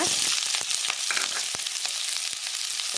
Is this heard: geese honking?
no